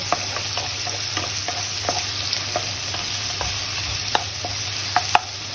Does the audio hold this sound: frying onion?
yes